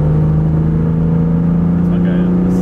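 A 1996 BMW E36 M3 with its six-cylinder engine pulls hard under acceleration, a loud, steady engine drone heard from nearby throughout, with faint voices.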